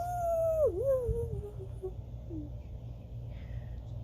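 A voice imitates a ghost's howl for a Halloween children's story, a single wavering wail that rises, dips sharply, then trails off slowly, close and alone over a low background hum.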